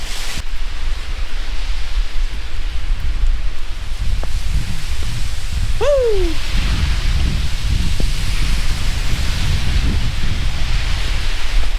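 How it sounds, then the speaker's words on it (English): Rain falls through a neighborhood as a steady, dense hiss on surfaces. A short voiced exclamation cuts in partway through. "So, rainy day in the neighborhood."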